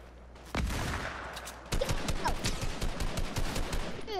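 Rapid gunfire bursts in the battle royale video game Fortnite, loud and close, opening with a sharp shot and then continuing as dense repeated volleys for several seconds.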